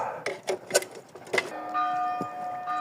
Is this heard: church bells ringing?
yes